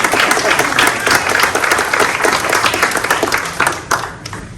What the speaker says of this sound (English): So let's welcome and give a round of applause for Mr. Pastor Paul Carlos